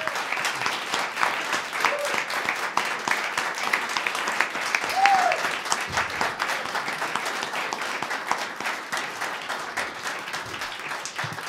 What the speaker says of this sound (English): A very hearty round of applause for Seth Glier live in our Audio Technica Studio C